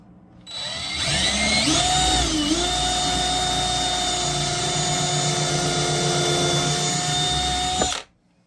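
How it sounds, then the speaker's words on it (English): Power drill boring a pilot hole into a wooden frame for a screen printing screen, one steady high whine that winds up, holds loud and close for about seven seconds, then cuts off. "I'm gonna put a pilot hole in here so I don't split my wood"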